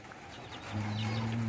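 A low, throaty clucking call from a chicken rises in the second half over a quiet outdoor background, close by and fairly soft.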